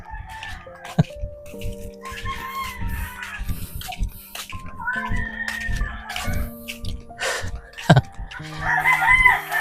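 Chickens clucking and a rooster crowing repeatedly in a rural yard, several birds close by with overlapping calls and crows throughout, a few other faint background noises.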